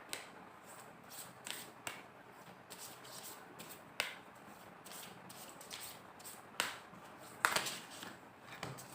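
Tarot cards are shuffled and drawn, with soft close riffles and sharp flicks and taps scattered irregularly over a quiet room.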